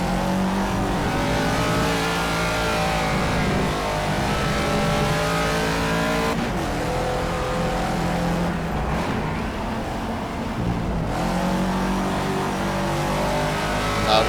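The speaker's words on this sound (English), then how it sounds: "Quite a lot of speed on corner entry, and then as soon as you, you know, just before the apex, you shift down to third gear." An M1 ProCar race car in the Project CARS racing game, its engine loud and sustained as it revs high and drops through gear shifts. No one speaks.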